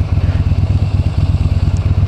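A Yamaha Bolt 1000cc V-twin motorcycle idles while stopped. The engine gives a loud, close, rhythmic low thudding pulse that throbs evenly throughout, with no talk.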